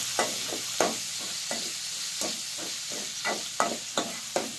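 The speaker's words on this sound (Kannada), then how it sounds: "ಟೊಮೆಟೊ ಕೂಡ ಚಲೋ ತಂಗಿ ಹುರಿಬೇಕ್ರಿ ಎಣ್ಣೆ ಒಳಗೆ ಚಲೋ ತಂಗಿ ಹುರ್ಕೋಬೇಕು" Chopped tomato fries in oil in a pan under a soft sizzle, broken by a regular rhythm of about a dozen sharp spoon scrapes and taps as it is stirred.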